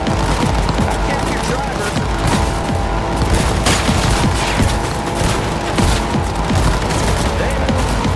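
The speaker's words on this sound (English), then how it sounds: "I've got plenty of time shooting this gun." Dense gunfire from a gun in the Cyberpunk 2077 video game, rapid loud shots in a continuous barrage with game noise, while someone speaks briefly over it.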